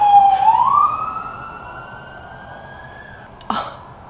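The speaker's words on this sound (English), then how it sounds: "there's always sirens here." A siren wails in the distance in Dallas, rising and holding a steady pitch, then fades. A short thump lands near the end.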